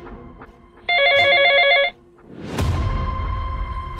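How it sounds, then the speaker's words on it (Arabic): An old telephone rings loudly with a harsh, continuous electric bell for about a second, followed by a heavy thump and lingering rumble. "الهاتف يرن بصوت عال مزعج متواصل"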